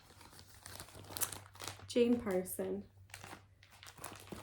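Plastic project bag for a cross-stitch piece crinkling and rustling in short bursts close by, with someone talking over and between the crackles.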